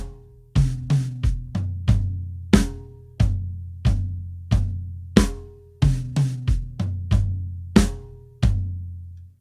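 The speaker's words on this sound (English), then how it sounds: "So chorus 2 has a snare on beat 3 again" Drum kit chorus groove: a snare crack on beat 3 among broken-up tom hits and kick drum, close and loud, with irregular clusters of booming strikes and sustained ringing tones, no voices.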